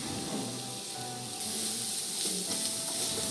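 Thinly sliced small shallots fry in hot oil with ginger and garlic, giving a steady close hissing sizzle that swells and brightens partway through and keeps going without pause.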